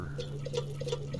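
Quiet dripping and trickling water being collected in the survival game Subsistence, soft repeated drops over a low steady hum.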